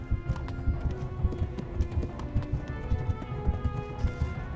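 Horse hooves clip-clop steadily at a brisk pace in the medieval game Kingdom Come: Deliverance, a rhythmic, even run of hoofbeats with no talking.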